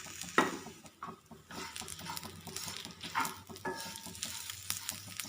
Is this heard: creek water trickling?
no